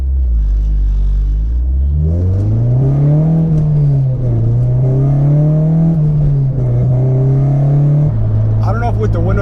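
Heard from inside, an Acura RSX Type-S engine climbs in pitch as it accelerates on a highway, a loud steady drone rising, holding, then dropping as the revs settle, with a person talking over it.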